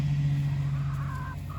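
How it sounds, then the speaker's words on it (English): Chickens out in a yard, running for scattered treats, with soft clucks and calls over a steady low hum, fairly quiet and continuous. "There's a lot of chickens out here today."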